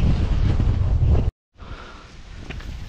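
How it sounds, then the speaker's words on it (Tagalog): Strong wind on a mountain roars and buffets the microphone, cutting out for a moment before gusting again more softly. "So grabe ka hangin din eh."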